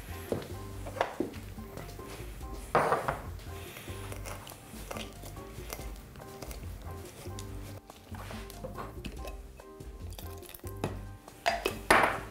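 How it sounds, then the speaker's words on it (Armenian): Food being stirred in a pot of dough dumplings with white wine, with intermittent metallic clinks and scrapes of a utensil against the pot and faint voices in the background. "հարում ենք։"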